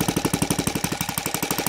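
NGH 38 model aircraft engine with CH CDI ignition running at 40 degrees before top dead centre, a rapid, even, close-up pulsing beat with a harsh buzzing edge for under two seconds.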